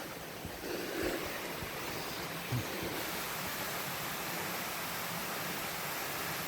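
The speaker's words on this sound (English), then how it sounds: "There's a little waterfall there." A small waterfall beside a mountain hiking trail gives a continuous broadband rush of falling water, steady and fairly close, with a few faint footstep-like bumps and no talking.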